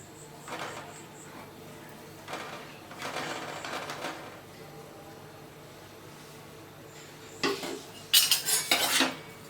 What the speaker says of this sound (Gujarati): ઇન્સર્ટ કરતા જવાનું આપણે મલાઈને આવી રીતે બધી, અને હલાવતા જવાનું.